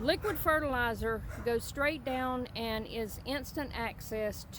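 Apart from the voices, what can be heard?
None of the usual background noises is heard.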